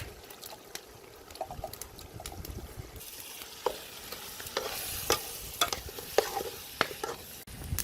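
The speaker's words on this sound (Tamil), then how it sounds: "அதையும் இதுக்குள்ள சேர்த்து நல்லா வடிவாக கிளறி விடுவோம்." Mutton curry is stirred into a sizzling kothu roti masala in a hot pan, with a constant frying hiss that swells louder partway through and sharp metal spatula scrapes and clacks repeating irregularly, close up.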